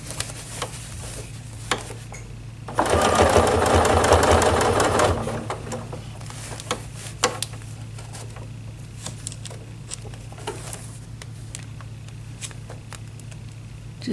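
A sewing machine doing ruler work on a table runner runs in one loud, close burst of about two and a half seconds, surrounded by quieter taps, fabric handling and a low steady hum.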